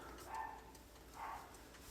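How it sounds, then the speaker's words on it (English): Two small dogs yapping faintly in the background, two short barks about a second apart over a quiet room. "sorry if you hear the 2 yapping dogs"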